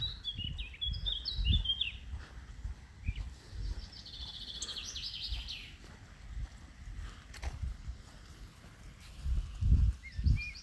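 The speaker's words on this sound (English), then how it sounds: "Listen to the sound of the bird songs" Birds sing and chirp in bright, high bursts during an early morning walk outdoors, the calls somewhat distant over low rumbling wind and footstep-like thuds.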